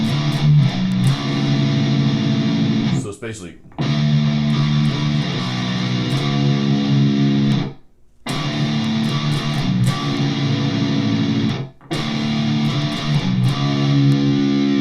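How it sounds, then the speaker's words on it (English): A 7-string electric guitar plays a heavily distorted power-ballad riff, palm muting the open low string. The chugging is loud and dense, with two brief pauses and a short spoken phrase near the start. "you can mix it up by also palm muting the open string there"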